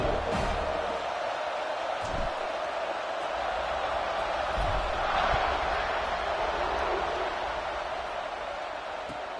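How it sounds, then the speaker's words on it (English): A steady roar of a stadium crowd at kickoff in the Madden 26 football video game, broad and continuous with slight swells, loud and filling the space with no clear speech. "They're set to kick it off, and this crowd now ready to get behind them."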